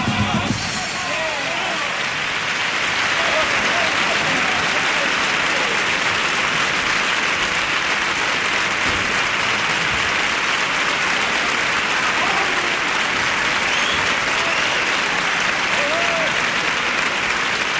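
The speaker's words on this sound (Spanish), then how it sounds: "Aplaudidísima la actuación de esta comparsa" An audience applauding a carnival comparsa after its performance in 2007, a long, loud, sustained ovation of many hands clapping at once, with scattered crowd voices rising and falling through it.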